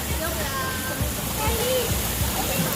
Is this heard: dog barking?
no